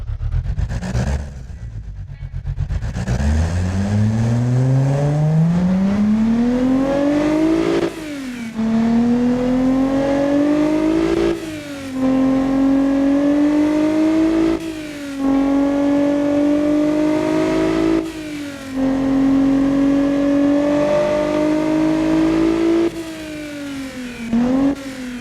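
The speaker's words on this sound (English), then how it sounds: "now let's hear the new camshafts." Tuner car engine fitted with new camshafts, revved repeatedly from idle: loud, close blips climbing in pitch, held briefly, then dropping, about six rev cycles with short gaps, no talking.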